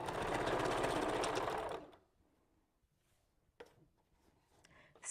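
A sewing machine runs fast and steady while stitching a track of raw Indian wavy hair onto a wig, loud and close for about two seconds, then stops, leaving faint handling noises.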